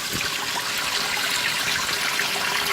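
Water rushes steadily into the tub of a 2017 Speed Queen washing machine, a loud, even hiss and splash that stays constant throughout, with no voices.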